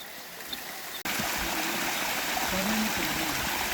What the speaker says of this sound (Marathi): तिथं आहे ती मला धबधबा दिसलाय.